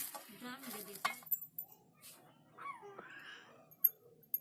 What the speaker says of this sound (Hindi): तो सभी सामग्री को एक बर्तन में डालना है।